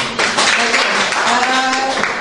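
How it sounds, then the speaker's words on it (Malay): Audience at an indoor event gathering clapping for the people on stage, a dense burst of many hands at close range, with a voice speaking over it and tonal background music underneath. "tepukan untuk mereka"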